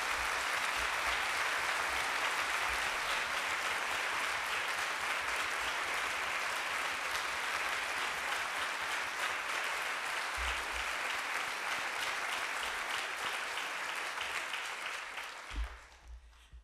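An audience gives Anita Hill a round of applause at a Martin Luther King Jr. celebration keynote, a loud dense wash of clapping sustained for about fifteen seconds before tapering off, with a few low thumps.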